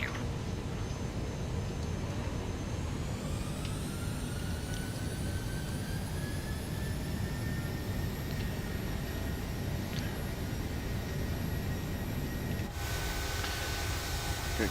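A fixed-wing airplane in Microsoft Flight Simulator 2020 takes off, its steady engine roar rising in pitch as it spools up over a dense rumble, loud and continuous throughout.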